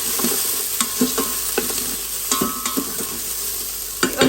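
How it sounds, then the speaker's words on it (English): Onions fry in an Instant Pot for beef stew, a constant loud sizzle broken by frequent scraping stirs against the pot, close-up and with no voices. "The onions are starting to get some colour on them now, which is wonderful"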